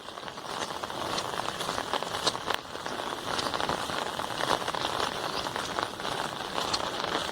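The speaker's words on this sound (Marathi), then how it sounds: "आणि थोडासा पाऊस पण लागत होता" Light rain patters steadily outdoors in a village, a dense, faint hiss of fine drops with scattered small ticks throughout.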